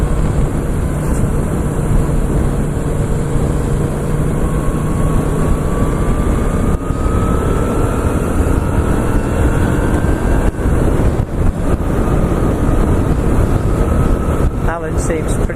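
A Moto Guzzi V7 II motorcycle on the road, heard as a constant engine drone mixed with heavy wind rush against the microphone, steady and fairly loud throughout with no clear pauses.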